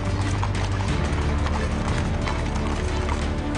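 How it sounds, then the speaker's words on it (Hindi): Rashtrapati Bhavan ceremonial horses rehearse outdoors, with a steady clip-clop of many hooves under a dense wash of crowd and ambient noise, continuous and moderately loud throughout. "राष्ट्रपति भवन के घोड़े रिहर्सल करने में जुटे हैं"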